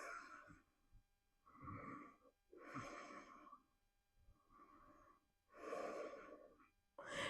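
Deep breathing during a yoga twist, with six slow, close inhales and exhales alternating in a steady rhythm, each one breathy and audible in a quiet room.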